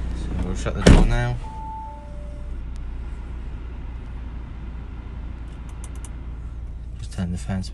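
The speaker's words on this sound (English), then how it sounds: "So we'll shut the door now" An Audi S5 car door shuts with a single solid thud near the start, followed by a low steady cabin hum, with brief talk before and at the end.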